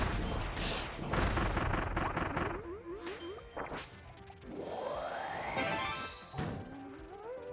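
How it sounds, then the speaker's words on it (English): Bombs going off in Kirby and the Forgotten Land, a string of crashing blasts and thuds mixed with bright dings and sweeping game effects, loud and busy throughout with no talking. "Bombs."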